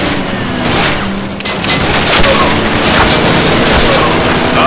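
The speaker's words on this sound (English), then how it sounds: "How about you try shooting the bastard?" Gunfire and booming explosions in the World War II shooter Call of Duty at a German roadblock, a dense, loud, continuous barrage of shots and blasts.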